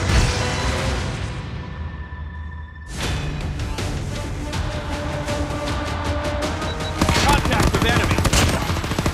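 A hostile sentry gun in Call of Duty Mobile fires in long, loud, rapid automatic bursts that run almost without a break, growing denser toward the end.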